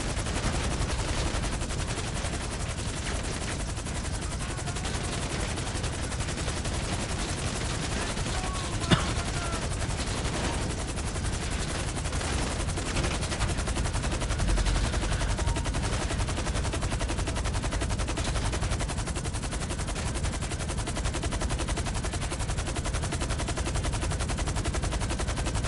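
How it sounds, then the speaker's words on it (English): Sustained gunfire in GTA Online fills the whole stretch as a dense, steady barrage of shots, with a sharper crack partway through and no speech. "Whole time I'm just taking fire too."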